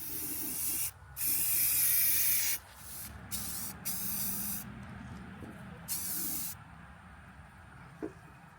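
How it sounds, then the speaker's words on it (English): Bursts of black aerosol spray paint hiss out in short and long blasts with brief pauses between them, close and fairly loud, coating thrifted home decor. "now I'm just going to spray paint everything black"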